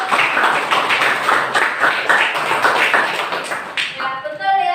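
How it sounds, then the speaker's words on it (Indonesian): Students in a classroom clap together in a busy, fairly close patter that holds steady, then tapers off near the end as a voice begins speaking. "Iya, tepuk tangan."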